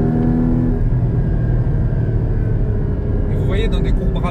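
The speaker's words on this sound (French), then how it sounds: "si on ferme toutes les fenêtres, vous entendez quand même le moteur" Inside a Porsche Cayman GT4 981 with all windows closed, a steady engine drone and road rumble run continuously as the car drives, with a voice speaking over it.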